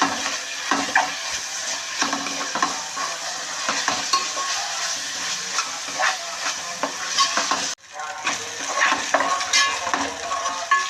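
Ground ginger-garlic paste frying in hot oil in a pan for bitter gourd mutton curry, a continuous close sizzle broken by frequent spatula scrapes and clatters, with a short dip partway through.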